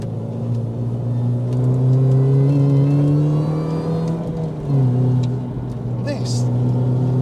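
A Mini R53 accelerates hard on a twisty road, engine drone climbing in pitch, dipping briefly with a gear change, then rising again. A person talks over the engine.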